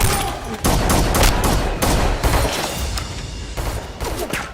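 Sharp, loud pistol shots from a TTI Glock 34 Combat Master in a John Wick 2 gunfight come in several distinct bursts, each cracking close and fading before the next.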